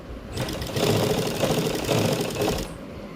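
A sewing machine stitches piping onto a lined suit in a fast, even mechanical patter, close and clear, starting, holding for about two seconds, then stopping.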